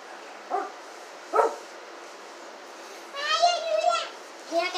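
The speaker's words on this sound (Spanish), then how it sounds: "pues ya escucharon a los perros ladrar, ¿verdad?" Several pet dogs bark in short, excited outbursts at a family home, sharp yaps spaced apart and then a longer run, with children's voices around them.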